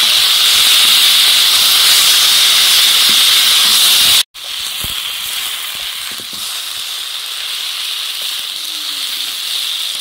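Chopped onion and tomato fry in a pan with a loud, steady close-up sizzle and hiss, broken once by a brief sharp click before the sizzling carries on slightly softer.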